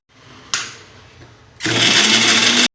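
A kitchen mixer grinder whirs loudly as it grinds coconut, cumin and spice masala, starting with a short burst, then a brief lull, then a steady roar that stops abruptly near the end.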